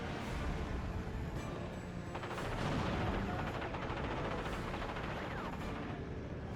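Naval artillery fire in a World War II strategy video game, with repeated booming shots over a rumbling battle din and a continuous roar of distant gunfire.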